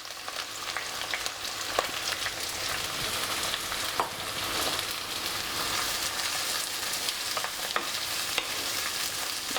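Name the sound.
frying onions, green chilies and curry leaves in oil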